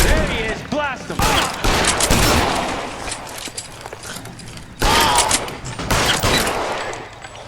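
Gunfire in the video game L.A. Noire: repeated bursts of shots in a firefight, loud and close, with a pause and then a second volley, with voices over the shooting.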